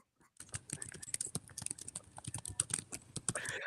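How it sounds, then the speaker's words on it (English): Rapid, uneven clicking of fingers typing on a computer keyboard, close and fairly soft, continuing for a few seconds. "what are you typing away?"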